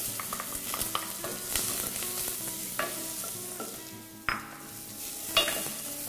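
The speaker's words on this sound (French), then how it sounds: "Là, on va faire bien revenir les oignons et de l'ail" Onions and garlic frying in olive oil for a vegetable soup, a close steady sizzle broken by several sharp spoon scrapes and clacks against the pan, with no talking.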